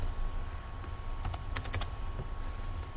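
Keys tapped on a keypad wired to an Arduino: a quick cluster of sharp clicks in the middle, close and fairly faint over a low steady hum, with no talking.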